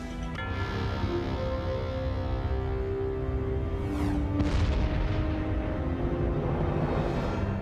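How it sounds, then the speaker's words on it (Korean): A documentary sound effect of a vast space explosion from a magnetar blast: a steady, loud rumbling roar with sweeping tonal layers and a rising whoosh near the middle, all of it without talk. "관측 위성들이 역사상 최대의 우주 폭발을 포착하는 데 성공한다."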